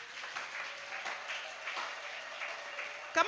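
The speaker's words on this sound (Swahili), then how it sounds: "Mungu anastahili makofi hayo." A crowd at a women's camp meeting in Kisii District applauds in a dense, continuous wash of clapping, soft and somewhat distant, ending with a sharp louder clap.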